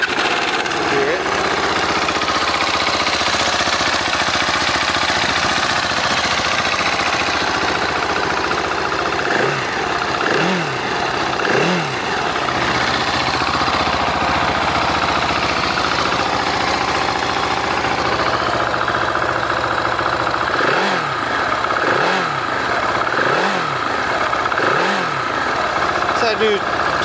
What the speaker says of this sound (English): Let's go ahead and crank this one up for you and